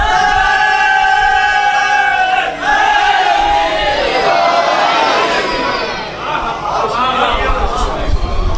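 A crowd at a Shia majlis gathering loudly chanting religious slogans in unison, rising and falling in rhythmic waves of many voices, close and dense with brief dips between chants.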